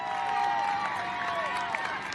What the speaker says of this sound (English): look at the applause here as Cofidis are on home roads today